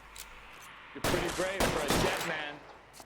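Gunshots in L.A. Noire, a few sharp loud cracks after a quiet second, followed by ringing and rapid reports, with a voice speaking among them.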